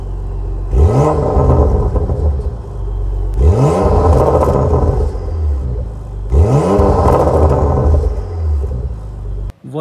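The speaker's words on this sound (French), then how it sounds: "qu'on entend ronronner ce beau V6" A Porsche Macan Turbo V6 engine in Sport Plus mode revs hard three times in succession, each surge rising and falling, with a steady deep rumble between revs.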